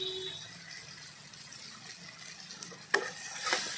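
Mustard-paste fish curry spices with turmeric and salt are stirred and sautéed in a pan, a quiet, soft scraping under a faint sizzle, broken by a sharp clink of the utensil and a brief rush of hiss.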